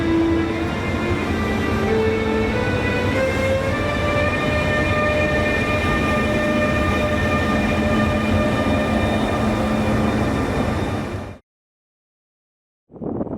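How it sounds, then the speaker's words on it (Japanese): A WestBahn private express train runs on the line between Vienna and Salzburg in Austria: a loud, steady rumble with rising motor whine for about eleven seconds, then a sudden cut to silence. "そこで今回は、あえて国鉄の列車を選ばず、私鉄の特急列車に乗ってみます。"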